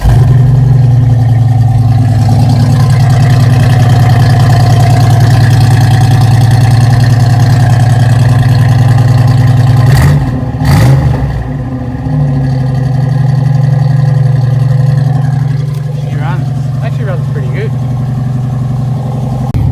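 A rescued Ford F100 XLT with a 351 Cleveland V8, just brought back to life with leaking oil, idles loud and close with a deep steady rumble, then briefly revs and settles back to idle.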